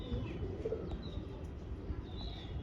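Low, soft pigeon cooing with faint chirps over a steady murmur of background noise, fairly quiet and without talk.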